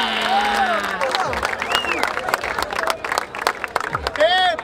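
Crowd at a rap battle semifinal in Barueri, São Paulo, applauding and cheering loudly with whoops and shouting voices over a steady wash of clapping, a host's voice calling out through it.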